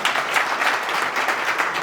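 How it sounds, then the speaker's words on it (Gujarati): An audience at a Gujarati stand-up comedy show claps for a couple of seconds, close and fairly loud, with individual hand claps pulsing unevenly through the continuous applause. "એકવાર એના માટે જોરદાર તાળીઓ"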